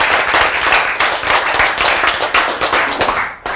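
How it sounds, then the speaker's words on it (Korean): Audience applause inside a Korean church lecture hall, many hands clapping steadily and densely for about three seconds, then a brief dip and a final burst, with no talk over it. "박수, 박수, 박수."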